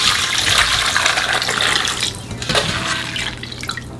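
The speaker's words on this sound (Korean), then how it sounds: "찬물로 한번 헹군 후에 물기를 좀 제거해 주세요." Cold tap water runs and splashes over blanched oyster mushrooms being rinsed in a kitchen, a loud steady hiss of flowing water that briefly breaks and resumes with wet splatter near the end.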